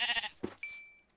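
A sheep in the Minecraft video game bleats in a short burst alongside game effect sounds, including a thin sustained tone, heard close and clear with no speech over it.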